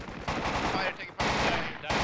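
Bursts of rapid gunfire in the military shooter game Battlefield Project Reality, sustained automatic fire in a few dense volleys separated by brief gaps, fairly distant and steady.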